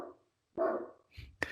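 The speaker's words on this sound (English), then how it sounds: "the dogs are barking" Dogs bark in two loud bursts, one around the middle and a sharper one at the end, with a short yip-like sound between them; no one speaks.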